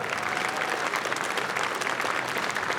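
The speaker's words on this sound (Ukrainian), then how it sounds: "Оплески бійцям." An audience at a bare-knuckle fight event applauds the fighters with continuous, even clapping that stays loud and full throughout.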